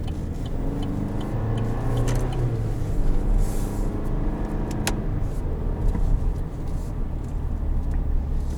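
A 2020 Chevrolet Silverado Custom Rally Edition with the 2.7-liter engine and eight-speed automatic drives along at steady speed, its low engine drone and road rumble running continuously, with a brief swell partway through.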